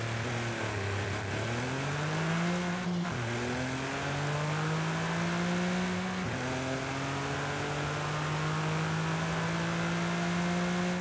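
In the video game Forza Horizon 5, an Autozam AZ-1 engine revs up repeatedly. Its pitch climbs, drops sharply at two shifts and then climbs again in a buzzy, continuous drone, with no talking.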